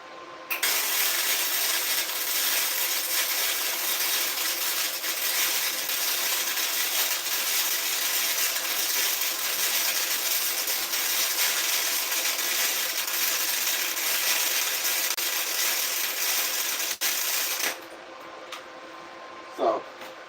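A Lincoln Electric Power MIG 140MP MIG welder lays a continuous bead for about seventeen seconds, a loud steady crackling buzz up close that stops abruptly, followed by a brief quiet clink.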